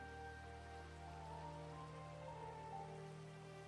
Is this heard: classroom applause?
no